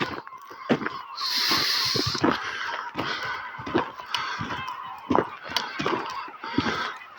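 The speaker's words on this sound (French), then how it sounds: "c'est des mouettes" Seagulls call near Lake Salagou, a run of harsh honking squawks repeating irregularly at a moderate distance, with a brief hiss of wind or noise partway through.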